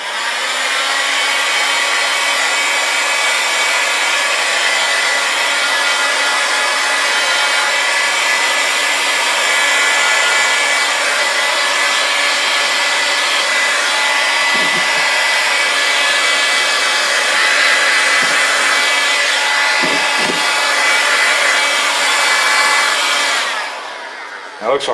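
Heat gun blowing hot air onto the shrinkwrap of an e-bike battery pack, a loud, steady broadband whoosh holding constant for over twenty seconds with a few faint clicks, cutting off near the end.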